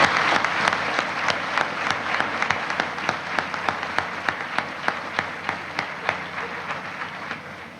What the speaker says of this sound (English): all of you deserve an applause from your parents for the hard work you've put in to getting here